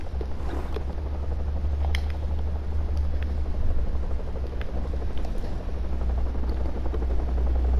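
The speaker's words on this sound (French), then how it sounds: "Hélico ennemi en approche." Enemy helicopter approaching in the video game Call of Duty Modern Warfare on PS4, a continuous low rotor thrum that holds steady and slowly swells, with faint scattered in-game clicks over it.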